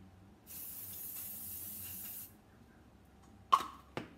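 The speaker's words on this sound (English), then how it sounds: "spray your pan." Cooking spray hisses onto a donut pan in a steady burst of about two seconds, followed by two sharp clacks of handling, with no talking.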